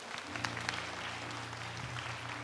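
Church congregation applauding together in praise, a steady dense wash of clapping with a sustained low musical tone running underneath throughout.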